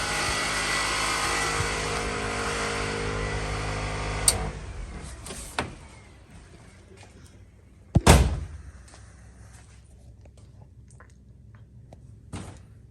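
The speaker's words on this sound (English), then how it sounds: "The fan's going crazy. Man, that fan is powerful." A powerful electric cooling fan on a pro street blown Chevy Nova hot rod roars with a steady broadband whoosh for several seconds, then cuts off, leaving a quiet space broken by a few sharp clunks and knocks.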